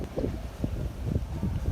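Low, steady wind rumble at a Cancun beach resort ahead of a hurricane buffets the microphone in uneven gusts, filling the background with no one speaking.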